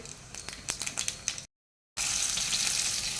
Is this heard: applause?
no